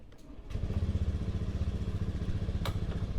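A motorcycle engine fires up after a brief crank and settles into a steady, close, rhythmic idle with a chugging low pulse, alone without talk.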